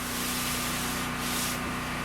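Steady, raspy sanding of a pine board, a continuous scratchy rub that swells slightly midway, close and fairly loud.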